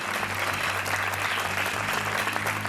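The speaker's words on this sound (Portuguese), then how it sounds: "Um aplauso para o Adelino Gouveia." A studio audience on a Portuguese TV quiz show, Joker on RTP 1, breaks into loud, sustained applause, a dense wash of clapping that fills the whole stretch with a steady musical tone beneath it.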